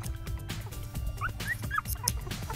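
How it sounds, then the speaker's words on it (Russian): A village dog with six small puppies gives soft whimpers and thin high yips, several brief cries scattered over low background rumble, close but not loud. "у Найды 6 щеняток маленьких"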